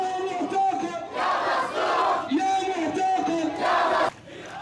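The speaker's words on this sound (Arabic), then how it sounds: "هتافات في إدلب تظهر إصرار المتظاهرين على تحقيق أهدافهم" Crowd of protesters in Idlib, Syria, chanting slogans in loud rhythmic unison, several surging shouted phrases rising and falling with brief pauses, the chant dropping off abruptly near the end.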